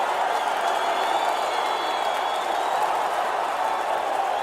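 Steady, dense applause track, a broad wash of crowd clapping and cheering held at an even level throughout without pauses.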